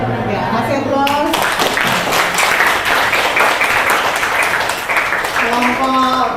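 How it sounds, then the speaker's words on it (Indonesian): Applause from a group of listeners after a presentation, steady dense clapping lasting several seconds, loud and close, with a voice speaking briefly at the start and again as it fades. "Ya, kasih aplaus."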